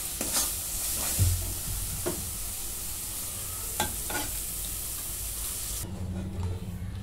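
Mixed pav bhaji vegetables are stirred in a hot pan, a steady sizzle broken by several sharp scrapes and clicks of the spoon, then a quieter, duller frying hiss toward the end.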